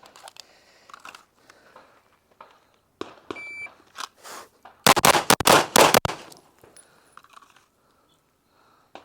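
A Walther PDP Compact handgun fires doubles across three targets, a rapid string of loud, sharp cracks about five seconds in, each shot paired closely with the next, surrounded by faint clicks and quiet range ambience.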